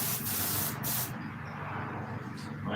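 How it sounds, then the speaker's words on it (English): A Grex airbrush gives off a continuous close airy hiss that stutters briefly in short pulses and then carries on steadily. "it's an airbrush"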